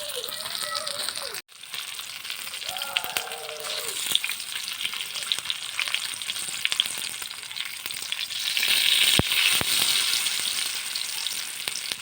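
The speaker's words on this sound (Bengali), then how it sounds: "এইভাবে আস্তে আস্তে হালকা আঁচে মাছটা আমি ভেজে নেব" Ayala fish slowly frying in a pan over low heat, a steady close sizzle and crackle running throughout with occasional stirring rattles and clicks.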